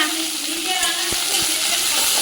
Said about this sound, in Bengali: এবার একটু পেঁয়াজটা ভাজা ভাজা হোক